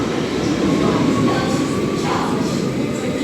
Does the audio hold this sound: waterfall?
no